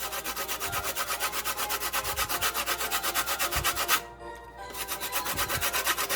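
Lemon zest is grated on a hand grater for a Jamaican fruit cake, a rapid, regular rasping of quick back-and-forth strokes, close and clear, with a short pause before grating resumes.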